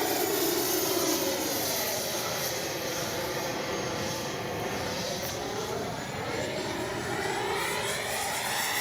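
An FMS Avanti S 90mm RC jet flies at full speed, its loud, steady turbine whine and rushing roar holding close and continuous throughout, with a subtle pitch sweep as it passes.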